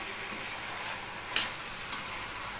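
Young jackfruit cooks with chana dal in a pan, giving a quiet, steady sizzle broken by a sharp spatula scrape and a softer second stir; no one speaks.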